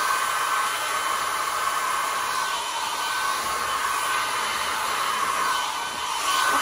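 Steady, close rush of air from a hair dryer blowing onto a short bob wig with bangs, a continuous broadband hiss holding nearly even loudness throughout with no talk.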